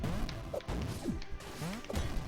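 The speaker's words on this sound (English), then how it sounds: "Oh, I just got smashed in the head with a cannonball right there." A cannonball power-up strikes a player in the video game Skyhook: a series of sharp in-game smashes and whacks with sliding tonal effects, loud and busy throughout.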